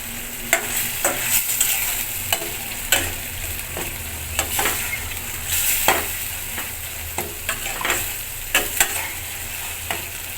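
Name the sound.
water added to sizzling fish curry masala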